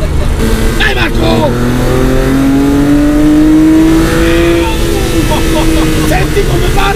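A customized Ferrari 512 TR Spider engine revs loudly and close, its pitch climbing and then falling back, with someone talking over the roar.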